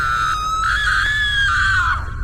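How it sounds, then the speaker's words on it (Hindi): One long, loud, high scream carries from a room, rising and then sliding down before it breaks off, over a low rumble of background noise. "तभी सामने से चीखने चिल्लाने की आवाज एक बार फिर से आने लगती है।"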